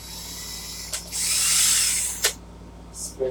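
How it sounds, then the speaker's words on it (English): A power drill whirs up for about a second, cuts off, then gives two short bursts, close by with faint room hum underneath. "Make sure my drill's in forward."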